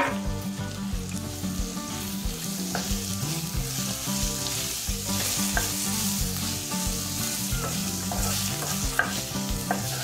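Tomatoes hitting ginger garlic paste in a hot pan for fish curry, a dense continuous sizzle with frequent stirring scrapes, close and steady with no talking.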